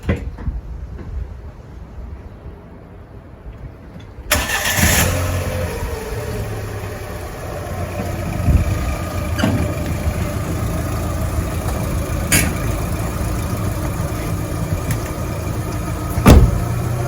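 A Fiat 500, a Copart Cat S repair car, starts up close by after a quiet moment, then settles into a steady mid-pitched idle with a few small revs and a short sharp knock near the end.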